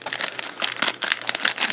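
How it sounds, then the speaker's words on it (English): Trading cards from a Booster Set 5: Awakening of Twin Blades pack are shuffled by hand, close up, in quick papery riffles and slides with no voice. "So there's the shuffle on the right side."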